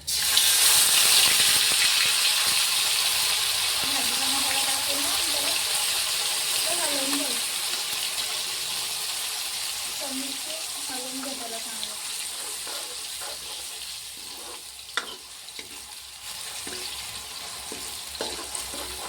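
Whole spices and a curry masala hit hot oil in a pan over full flame for a fish curry, giving a loud, steady hiss that eases a little over time. A voice hums or talks faintly beneath it, and a few clinks come near the end.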